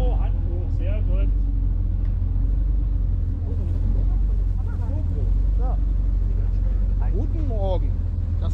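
A car engine idles steadily with a low, constant rumble at a checkpoint on a classic-car youngtimer rally tour, while people talk close by over it.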